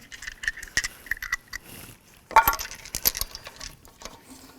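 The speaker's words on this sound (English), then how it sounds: "get all your lug nuts on and started" Lug nuts on a 2005–2015 Toyota Tacoma front wheel clink and rattle as they are threaded on and started by hand, a scatter of close metallic taps and scrapes with a brief burst of sharper clinks midway.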